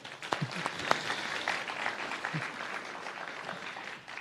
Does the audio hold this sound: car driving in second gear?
no